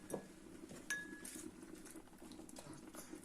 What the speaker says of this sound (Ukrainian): І накриваю кришкою.